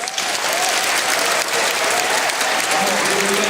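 A crowd at an assembly's opening session claps steadily in practice applause, loud and dense throughout, with a few voices faintly mixed in underneath.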